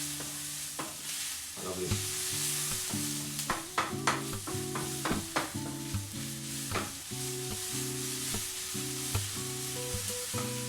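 Eggs sizzle in a frying pan while being stirred, with a steady hiss broken by utensil scrapes and taps, over sustained background tones. A voice briefly speaks.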